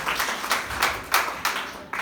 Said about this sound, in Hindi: एक बार जोरदार तालियों की निकाल रहे